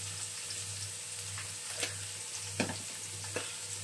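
Dry thyme, curry powder and spices frying with onions in oil: a steady low sizzle runs throughout, with a few soft stirring clicks and scrapes, quiet and close, no talking.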